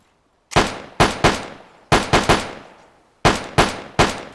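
A carbine fires in Arma 3 with the IFA3 mod, loud close single shots in groups of three, each crack followed by a short echoing tail, with brief pauses between the groups.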